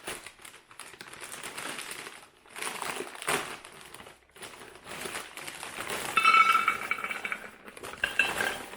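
Meatballs tumble into the bottom of a slow cooker, a run of clinking, knocking and rustling handling sounds in uneven bursts, fairly close and moderately loud.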